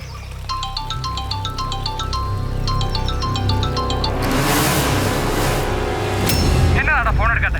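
A mobile phone rings with an incoming call in a film scene, a repeating electronic melody for several seconds before a loud rumbling, crashing sound takes over.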